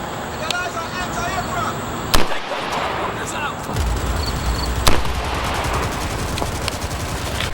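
Two sharp rifle shots fired at a slow pace with Black Ops .223 62gr OTF ammunition by HPR, loud cracks several seconds apart over steady outdoor wind noise.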